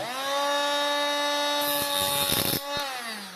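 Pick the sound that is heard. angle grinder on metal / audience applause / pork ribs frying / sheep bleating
angle grinder on metal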